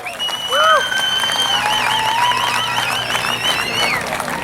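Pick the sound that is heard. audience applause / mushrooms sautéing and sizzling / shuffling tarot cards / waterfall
audience applause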